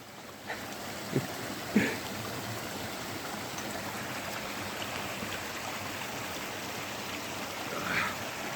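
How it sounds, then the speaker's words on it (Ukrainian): Mountain waterfall in the Carpathians roaring as a steady broadband wash of falling water, close and continuous, with a few faint knocks and rustles on top. "Піднімаємося вздовж того водоспаду."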